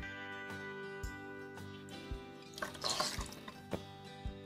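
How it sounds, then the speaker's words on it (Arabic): Mint-infused water wrung from a towel falls in soft, irregular drips and trickles, close and fairly quiet, with a brief splashy burst in the middle. "وهعصر الفوطه"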